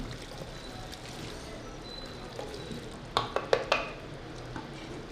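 Chopped tomatoes are stirred into a masala tikka handi in a pot: a low, steady cooking hiss, then a quick run of sharp metallic clinks and scrapes from a spoon against the pot near the end.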